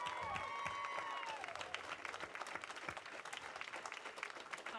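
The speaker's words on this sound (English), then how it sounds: "Let's give them a big round of applause as they come up." Audience applause at an anime convention's closing ceremony as team leaders come up on stage, a steady, dense clapping from a large crowd that holds for several seconds with a voice briefly over it.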